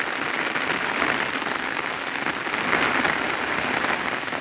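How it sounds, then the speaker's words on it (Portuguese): Heavy rain driven by wind in Paraíba, Brazil, pours down steadily and loudly as a dense, continuous hiss of drops beating on surfaces, with no voices. "Chuva deu uma apertada novamente. Chuva com vento."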